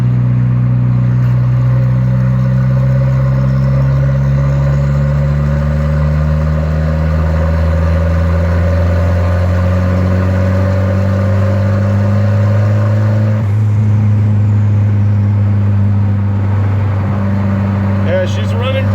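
A big turbocharged Volvo car engine runs steadily and loud, a low droning hum with a shift in pitch partway through, while people talk over it.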